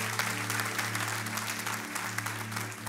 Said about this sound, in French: applaudissez pour de vrai tous ensemble.